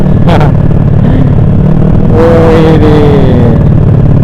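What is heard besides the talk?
motorcycle with LeoVince exhaust revving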